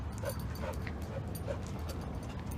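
A dog at the vet whimpers in several faint, high yelps over a steady background hum, with a few soft whines spread across the moment.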